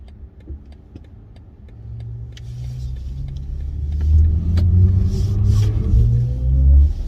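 A 2022 BMW i4 eDrive40 electric car pulls away and accelerates hard, a low rumbling road and motor drone rising with a faint climbing electric whine as the rear slides, loud and near, no talking.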